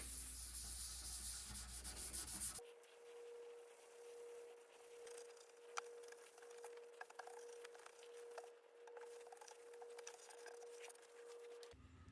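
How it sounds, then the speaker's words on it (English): Light, quiet rubbing as a walnut burl finish is sanded by hand with a maroon abrasive pad, soft scuffs and faint taps over a low steady hum. "They recommended I could sand it with a maroon pad"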